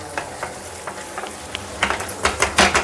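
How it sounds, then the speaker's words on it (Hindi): Punjabi-style sarson ka saag, mustard greens, stirred in a pan on the stove, a soft scraping sizzle with intermittent spoon scrapes that grow louder and busier toward the end, close up with no voices. "इसको अच्छे से मिक्स कर लेना है।"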